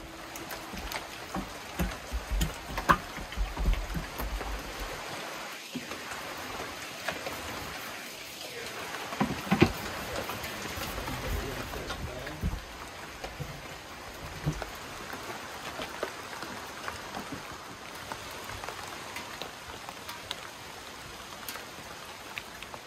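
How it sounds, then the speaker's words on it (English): Steady rain patters on a porch roof overhead, a constant soft hiss with scattered louder drops, no voices. "the porch was like a sanctuary where I could hang out and enjoy the sounds of the rain"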